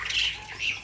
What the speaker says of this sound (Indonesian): Inilah nantinya burung yang kita tangkarkan